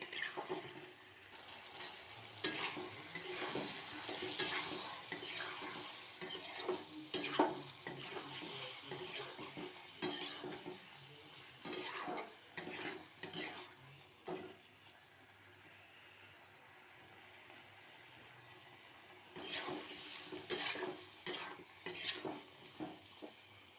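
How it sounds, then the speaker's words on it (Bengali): Liver stir-fried in a pan with turmeric, chili powder, tomato and salt, cooked until the oil separates: repeated scraping stirs come in bursts over a soft sizzle, with a quieter pause midway before the stirring resumes. "এবার সব কটাকে একসাথে মিশিয়ে এবার এটাকে আমি কষাবো যতক্ষণ না তেল ছাড়ছে"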